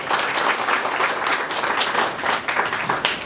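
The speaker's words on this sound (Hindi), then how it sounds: "इन दोनों के लिए तालियां बजाइए जरा।" An audience at the inauguration of a pilot training school claps steadily for several seconds, dense and loud, with no pause in the clapping.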